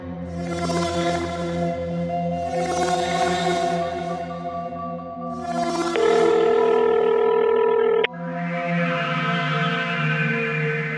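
Repeated electronic ringback tones pulse in bursts, then a steady tonal beep holds for a couple of seconds before the ringing resumes.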